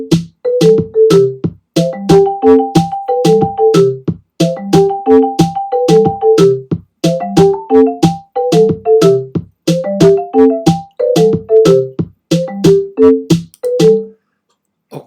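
A melody built over repeating ostinato figures, with a sustained high tone entering and gaps of empty space between phrases, played in clear tonal notes with short pauses, loud and close.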